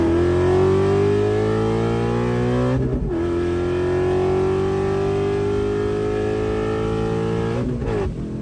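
A Coyote-swapped car engine running on E85 revs loud and close, its pitch climbing steadily through two long pulls, each broken by a brief dip at the shift.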